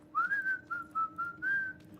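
Melodic whistling inside a frosty mine in a video game: a clear, close tune of several sliding notes and short phrases over a low steady background hum, with no talking.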